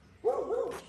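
A single close dog bark, fairly loud and a bit drawn out, at a rural house in São Félix de Minas, Brazil, with no talk over it.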